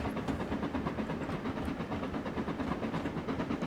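A locomotive from the Trainz Railroad Simulator 2019 game on a Cornish mainline route, with steady engine rumble and rhythmic clickety-clack of wheels over rail joints continuing without pause.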